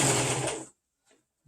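A sewing machine stitches a face mask in a short, loud, close whir that stops abruptly, followed by a faint brief mechanical tick.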